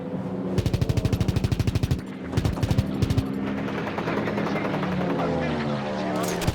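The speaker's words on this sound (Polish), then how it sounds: "Obrona przeciwlotnicza jest tutaj naprawdę mocna." Heavy anti-aircraft fire rattles in Call of Duty: WWII during a Battle of the Bulge mission: loud bursts of rapid automatic shots, short gaps, then more bursts over a droning aircraft engine and battle noise.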